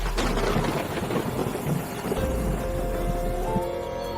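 Steady heavy rain roars throughout, with low rumbling thunder underneath; no voices.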